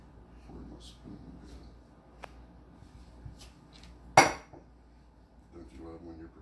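Kitchen utensils clink and rattle softly as someone rummages for a spoon, a few light taps building to one sharp metallic clatter, with a voice speaking faintly in between.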